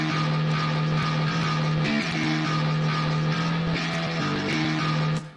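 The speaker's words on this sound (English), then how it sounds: "Our third guitar by itself sounds like this." Virtual 8-string metal guitar layer built in FL Studio with no real guitar, a dense, heavily distorted sustained chug with shifting low notes, continuous and loud throughout, no voices.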